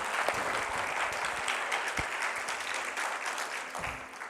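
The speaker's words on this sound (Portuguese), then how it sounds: "Dê uma salva de palmas para Jesus." A church congregation applauds during a sermon, a steady wash of clapping that lasts the whole moment, with a few sharper knocks in between and no one speaking.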